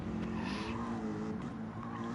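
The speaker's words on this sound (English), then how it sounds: "he's having to overturn the wheel. That'll just scrub the tyres across the track" A Gran Turismo race car's tyres scrub across the track as the wheel is overturned in a corner, a steady engine drone with a brief grinding, scraping rise of tyre noise partway through.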